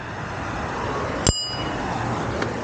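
A Beam e-scooter's bell gives a single bright ding midway, ringing briefly over steady outdoor background noise while riding at Stulang Laut in Johor Bahru.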